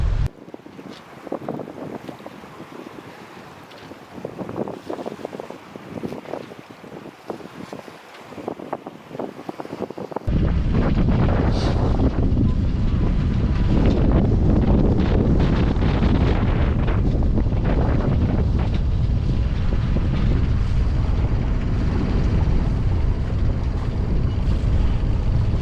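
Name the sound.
strong wind blowing on a sailboat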